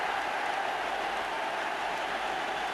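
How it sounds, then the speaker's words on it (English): Steady broadband applause from the bench at a Manchester United versus Blackburn football match in the 1992/93 season, a continuous wash of clapping and crowd noise holding at an even level throughout. "no wonder they applaud on the bench"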